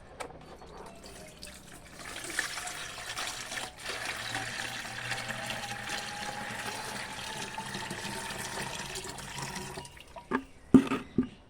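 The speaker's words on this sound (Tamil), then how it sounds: "மிச்சமாக இருக்கிற தண்ணியை அந்த ஸ்ப்ரேயரில் ஊற்றி" Water splashes and pours steadily into a plastic sprayer, a continuous hissing rush, followed by a few sharp plastic clunks near the end.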